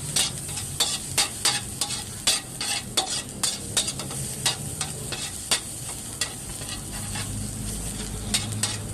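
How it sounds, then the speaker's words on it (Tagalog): Grated garlic and ginger fry in cooking oil in a separate pan, crackling and sizzling steadily up close, with repeated sharp clicks from stirring. "Ilagay ang grated garlic o ginadgad na garlic at saka luya."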